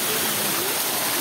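A waterfall at Shilparamam, a loud, constant broadband rush of falling water that fills the moment close by, with no talk.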